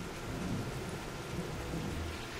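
Steady rain with a deep thunder rumble in the video game Fable Anniversary, a dense continuous wash of rainfall close by with low rolling thunder underneath and no voices.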